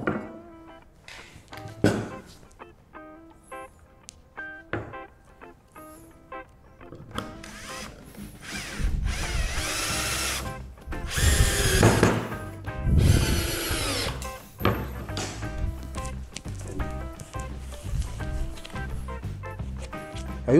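A power drill drives screws into wood during a scroll saw project, with short bursts of whirring early on and then a longer, louder run of steady drilling close by, with no talk.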